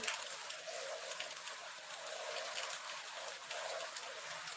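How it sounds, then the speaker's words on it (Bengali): A dense, steady chorus of frogs croaks in the distance during heavy monsoon rain, with a constant hiss of rain over it and no voices. "ব্যাং ডাকছে দেখছো ব্যাঙের আওয়াজ পাচ্ছ"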